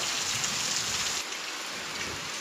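Steady monsoon rain pours down in a dense, even hiss of drops on surfaces, continuous and moderately loud with no voices.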